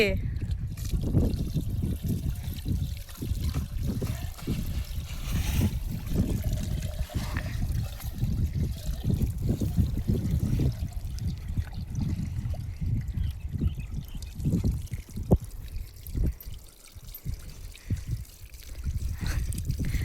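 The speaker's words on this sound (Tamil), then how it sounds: "இப்போ வெற்றிகரமாக இப்போ தண்ணியை ஊற்றி" Water pours and trickles steadily for a long stretch into a plastic container for watering cucumber plants in a village, close by, with people talking over it throughout.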